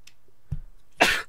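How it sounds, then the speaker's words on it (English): A man coughs once, sharp and close, in the surreal horror game Ib, preceded by a faint short throat sound; otherwise quiet. "Did you just cough?"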